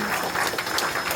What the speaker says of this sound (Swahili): Hapa tusimame tupige makofi kwa ajili ya program hii ya Vital